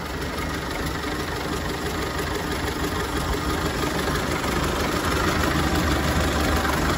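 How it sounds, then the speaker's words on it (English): A 1930 Ford Model A Tudor sedan's 201 cubic inch four-cylinder engine runs steadily near the microphone, a dense, even, slightly knocking idle rumble that holds constant throughout with no voices. "Underneath the hood, we have a 201 cubic inch four-cylinder motor"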